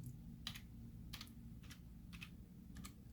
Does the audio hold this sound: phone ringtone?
no